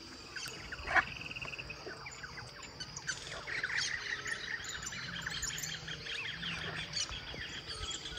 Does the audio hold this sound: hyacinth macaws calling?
yes